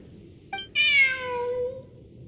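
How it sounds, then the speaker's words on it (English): A single cat meows in Genshin Impact, a short chirp followed by one clear, drawn-out, falling meow, close and distinct over a quiet background. "Look, a cat."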